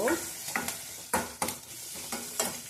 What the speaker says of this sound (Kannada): ಬೆಳ್ಳುಳ್ಳಿ ಫ್ರೈ ಆಗಬೇಕು